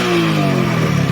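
A 12-year-old Hero Splendor motorcycle engine revs up during acceleration, a loud, close mid-pitched roar climbing steadily over about a second.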